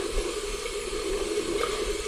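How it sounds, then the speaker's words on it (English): Tap water runs steadily into a sink during face washing, a continuous faint hiss and splash with no breaks. "put it under the running water"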